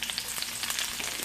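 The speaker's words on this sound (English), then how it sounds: "when you hear that sizzle," Onions sizzle and crackle in a hot skillet, a close, steady frying hiss with small pops and no voices.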